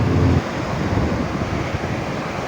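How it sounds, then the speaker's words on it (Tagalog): Steady rushing water and wind noise, a continuous roar of strong sea waves and current close to the microphone in high wind, with no voices. "Hirapan nga pala sa pagtutulak dahil sa lakas ng alon at agos"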